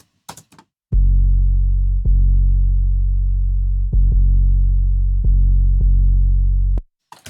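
Deep, saturated 808 bass notes with a gritty distorted edge, five or six long booming hits separated by short gaps, loud and alone.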